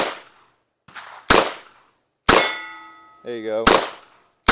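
Double-action revolver shots fired at a range, three sharp loud cracks spaced apart with a ringing metallic tail on one, and someone speaking briefly between them.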